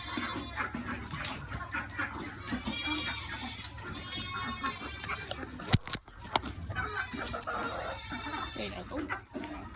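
Hungry turkeys cluck and chatter in a steady, busy flock close by, with a sharp knock partway through and a person speaking over the birds.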